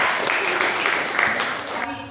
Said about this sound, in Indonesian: Beri tepuk tangan untuk Dea.